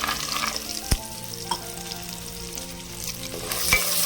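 Peanuts sizzle and crackle steadily in a hot pan, with a few sharp clinks of stirring against the metal.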